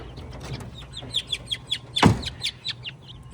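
Chickens in a backyard aviary cluck and chirp in a quick, uneven series of short calls, with one louder, longer squawk partway through, all close by and with no talk.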